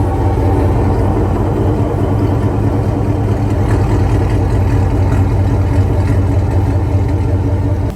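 A Chevrolet Silverado or GMC Sierra truck with Speed Engineering long tube headers and a custom muffler rumbles steadily at close range, a deep continuous exhaust drone with no break.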